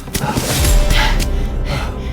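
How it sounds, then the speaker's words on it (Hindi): A fisherman in an animated horror story pants out of breath, with several short heavy gasps close up and no words spoken. "एक मछुआरा हांफते हुए किंगस्टन के घर पहुंचता है।"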